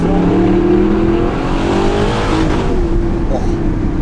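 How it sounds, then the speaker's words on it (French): An Audi R8 V8 accelerates hard, its engine note holding a loud, rising drone with strong low rumble for several seconds, heard close from inside or beside the car with a voice faintly underneath. "elle accélère quand même bien franchement la voiture"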